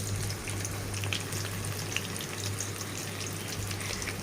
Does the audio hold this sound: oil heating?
yes